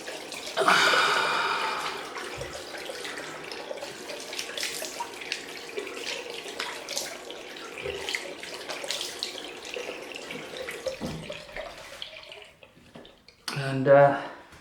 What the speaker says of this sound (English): let's just get some cold water on my head